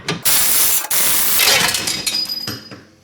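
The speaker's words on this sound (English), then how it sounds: "You got a 18mm bolt right here that comes off." A ratchet wrench works an 18mm bolt loose from the rear suspension of a VW Jetta TDI, giving a steady, close mechanical rasp that runs nearly continuously with brief pauses between strokes.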